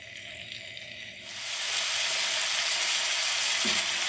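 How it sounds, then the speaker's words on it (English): Quiet rustling gives way to a loud, steady sizzle as beef for stew hits a pan on high heat, the hiss continuing evenly to the end. "It's on high heat. We're going to sear it, brown it"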